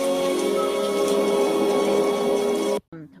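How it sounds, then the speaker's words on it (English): Steady heavy rainfall in a scene from the 1994 film The Crow, a dense continuous hiss that cuts off abruptly near the end. "I wish the rain would stop just once."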